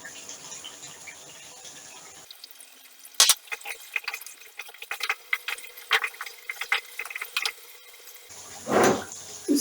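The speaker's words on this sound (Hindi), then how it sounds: "हम इसके अंदर अभी ये पानी शामिल करेंगे" Water is poured into a cooking pot of chicken korma with fried chopped onions and ginger, giving a run of splashing and trickling bursts after a quiet stretch, ending in a louder pour.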